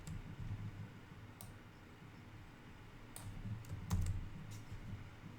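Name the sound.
computer keyboard typing while copying and pasting code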